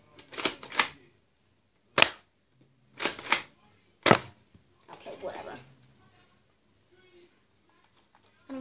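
Nerf blaster firing foam darts: a handful of sharp, dry snapping shots, some in quick pairs, spaced irregularly and close by, followed by quieter rattling handling noises and faint talk.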